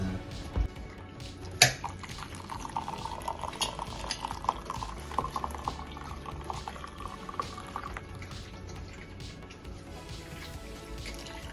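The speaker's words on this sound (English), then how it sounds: "It's boiling now" A pot of masala chai bubbles and simmers on the boil, with soft gurgling and a sharp clink early on, fairly quiet and close.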